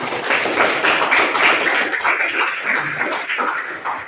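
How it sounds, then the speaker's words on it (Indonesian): A classroom of students claps for the groups, close and fairly loud with uneven, slightly ragged rhythm that thins out toward the end. "Kita tepuk tangan."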